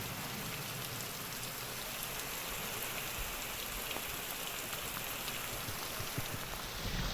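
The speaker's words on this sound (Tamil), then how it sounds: "திருவள்ளூர் மாவட்டத்தில் நேற்று இரவு முதல் பரவலாக மழை பெய்து வருகிறது" Steady rain falls across Tiruvallur district, a continuous close patter of drops on surfaces with an even level from start to end and no talking.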